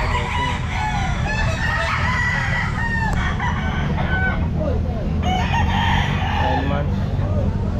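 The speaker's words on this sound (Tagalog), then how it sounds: "Laking manok na." Roosters at the Grotto pet market crow repeatedly, with several long crows and clucks overlapping amid busy crowd chatter and people talking nearby.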